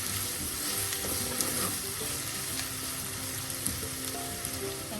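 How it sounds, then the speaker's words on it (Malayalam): Green peas and beaten egg sautéing in a pan, continuous loud sizzle with occasional stirring clinks, close up and without speech. "എല്ലാം നന്നാലൊന്ന് വഴലട്ടെ."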